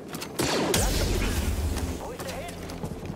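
Blaster fire and deflections during combat in the video game Star Wars Jedi Fallen Order, with sharp bursts and impacts over a dense rumbling game mix, someone talking over the action.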